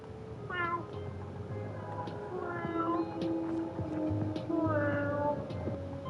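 A man imitates cat meows with his voice, several drawn-out wavering mews in a row, close and clear, with a low background hum underneath.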